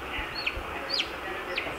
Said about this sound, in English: we have chickens hatching